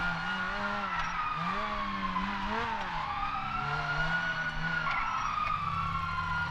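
A police car siren in GTA Online wails in long rising and falling sweeps over steady engine and traffic noise, alongside a lower warbling tone, loud and continuous throughout.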